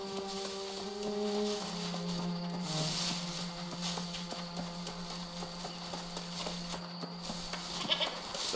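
Sheep bleating in the New World video game, a few soft calls over a steady ambient game soundscape with occasional hoof-like clopping, moderately quiet and no talking.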